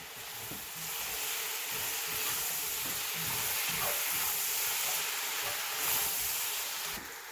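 Okra and tomatoes sizzle in a hot pan, a steady broadband hiss running continuously throughout with slight swells, close and moderately loud, no voices.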